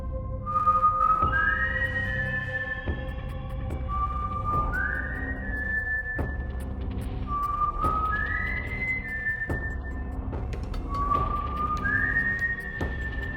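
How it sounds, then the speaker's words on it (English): Repeated two-note whistles rising in pitch, four calls spaced a few seconds apart over a low steady rumble, like signals from a distance. "they then hear these people whistling"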